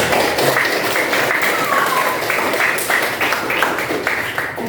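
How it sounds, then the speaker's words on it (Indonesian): Clapping from participants in a classroom training session on computational thinking and coding, a busy patter of hands with some voices mixed in. "Beri tepuk tangan untuk kita semua"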